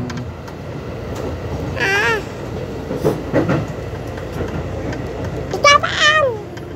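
A KAI passenger train runs past with a steady rumble and rhythmic wheel clatter, broken by sharp rising and falling squeals, while people's voices carry faintly underneath.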